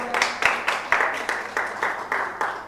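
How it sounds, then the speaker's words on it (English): A masterclass audience applauds the TechWomen Council, with roomy claps landing in a quick, regular rhythm that hold a fairly even level throughout. "We have to give them a round of applause"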